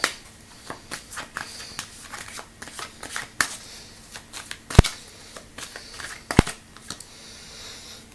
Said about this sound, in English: Let's pull a couple of cards with that.